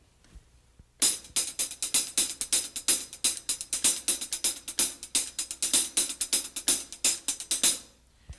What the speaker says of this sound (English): I'll play it on the hi-hat.